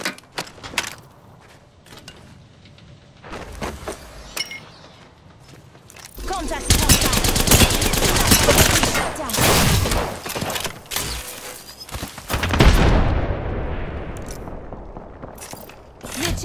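Apex Legends gunfire: bursts of rapid shots and shattering impacts that swell loud in the middle and again near the end, with quieter clicks and footsteps between and voice lines spoken over the action.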